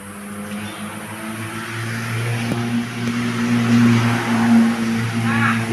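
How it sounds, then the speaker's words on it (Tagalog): A steady rumble of vehicles passing on a nearby highway, with engine drone swelling and fading, continuous and fairly loud. "Maingay ang sasakyan."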